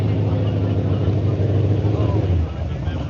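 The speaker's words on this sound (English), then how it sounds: "Somebody started up a car over here." A car engine idles with a deep, rumbling throb at an outdoor car show, steady and fairly close before easing slightly toward the end, with people talking nearby.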